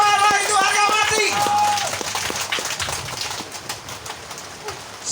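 An audience at a village head election campaign event claps in a dense burst, loud at first and then thinning to scattered claps, with a voice and a brief tonal sound over the start.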